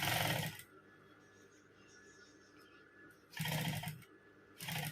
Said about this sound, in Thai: เราจะค่อยๆเย็บไปค่ะ